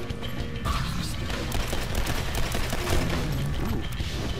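Rapid gunfire from the shooter video game Legendary, a dense stream of overlapping shots and impacts that holds loud and close without a break.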